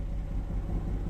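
Renault Clio V6 engine turning over and catching, a low steady rumble close by with no talking over it.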